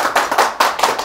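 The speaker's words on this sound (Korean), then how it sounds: "박수." A small group claps briefly in a studio on a golf lesson show, a few close, sharp bursts of hand claps falling in an uneven rhythm with no talking.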